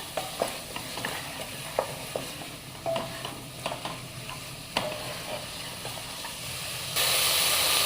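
Vegetable dal khichidi with potato is stirred in a pot, scrapes and clinks of the spoon repeating irregularly over a soft steady sizzle, with a louder hiss surging in at the end.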